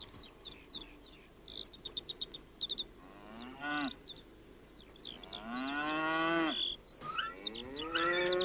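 Cows moo loudly, several long drawn-out calls one after another, while small birds chirp rapidly in the background.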